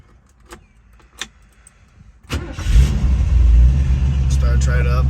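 A 1968 Shelby GT350 convertible's numbers-matching V8 cranks and fires after faint key clicks, then settles into a loud, rumbling idle close by.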